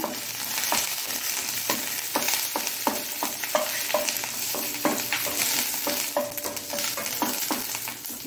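Steady sizzling of curry leaves and seasoning frying in a pan for Mangalorean basale sambar, with repeated scraping stirs of a spatula at an irregular rhythm, close by and without talk.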